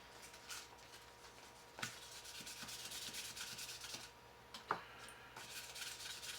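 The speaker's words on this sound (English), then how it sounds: "And finally the 2000 Grit Sandpaper." Quiet, steady rubbing as knife scales on a Victorinox are sanded with 2000 grit sandpaper, heard close up with a couple of faint taps and no talking.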